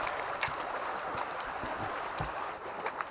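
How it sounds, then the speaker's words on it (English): Steady creek water flowing in a wild outdoor setting, a continuous rushing wash with faint gurgles and occasional soft splashes, close and even throughout. "Down here at the creek right now, just enjoying the view."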